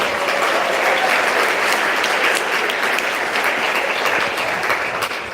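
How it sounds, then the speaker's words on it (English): A large conference audience at Yale Law School applauds for several seconds. The clapping is thick, even and continuous throughout. "Please give yourselves another round of applause."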